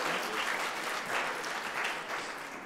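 Audience at a workforce development panel discussion gives steady, moderately loud applause, a continuous wash of clapping from the room with no talk over it.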